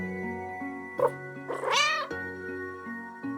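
A cat meows once, loud and close, with a drawn-out rising and falling cry over steady low background tones while it clings to someone to snuggle.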